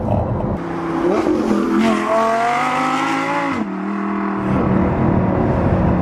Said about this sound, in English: They absolutely nailed the noise with the R8, with a couple of little caveats. Number one, this has got a Capristo exhaust system on it.